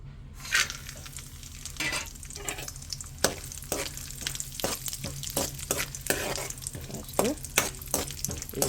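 Dry fruits frying in hot ghee for carrot halwa, with a close, steady sizzle and sharp intermittent stirring knocks and scrapes against the pan throughout.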